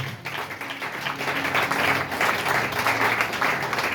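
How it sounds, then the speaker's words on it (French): A church congregation at a seminar service in Brazzaville applauds, a dense, steady roar of many hands clapping that swells after the first second, with faint voices mixed in. "Est-ce qu'on peut acclamer très fort?"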